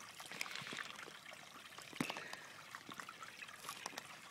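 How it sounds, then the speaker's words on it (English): Filtered lake water trickles from a hand pump filter, a faint, irregular dribble of small splashes and drips, close and quiet, with one sharper plink partway through. "And now out comes pure, delicious, filtered water."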